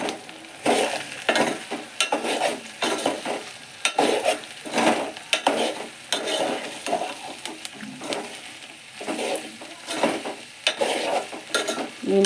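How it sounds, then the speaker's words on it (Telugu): A spoon stirs soya chunks (meal maker) curry in a sizzling pan, with repeated scraping strokes over a steady frying hiss. "మిల్ మేకర్ మిక్స్ చేసుకుందాం మంచిగా."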